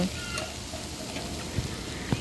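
Dried loitta fish (Bombay duck) sizzles in a pan of ground spice paste with turmeric and coriander powder, a soft steady fry with a few light scraping clicks from stirring.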